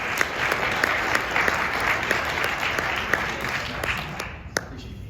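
An audience claps and applauds to welcome a speaker, Dr. Lindsay, at an event. Steady, dense clapping from a crowd carries on for several seconds, then thins near the end.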